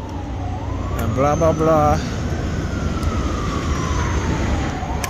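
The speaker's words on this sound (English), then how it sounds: "So you hear the sirens? Yeah, there's an ambulance." Outside, an ambulance siren wails in a rising and falling tone that drifts and fades as it passes, while a person talks over it in the foreground.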